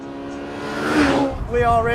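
A Honda S2000 fitted with a Milltek Sport cat-back exhaust revs up, its tone climbing and peaking before a shift, then rising again as it moves through the gears, with a person speaking briefly over it.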